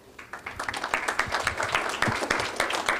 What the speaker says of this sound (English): So please, a nice round of applause.